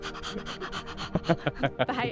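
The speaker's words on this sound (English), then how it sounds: "there's just this big Doberman sitting beside, like panting in your face" Heavy, rapid panting from a big Doberman right up close, a steady run of breathy huffs that grows into sharper, louder snorting gasps.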